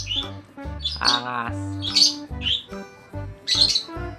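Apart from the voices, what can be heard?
pet bird squawking while fitted with a bird diaper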